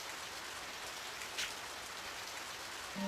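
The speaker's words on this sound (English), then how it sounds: "Rainy." Continuous rainfall in the video game Radiant Historia: Perfect Chronology, a constant hissing wash of drops at steady level, with a faint brief tone near the end and no talking.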